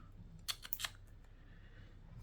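Scissors snip a few times in quick succession, trimming excess cotton wick on an NTSU rebuildable atomizer (RBA) from Ghost Bus Club of Italy, close and crisp against a quiet room.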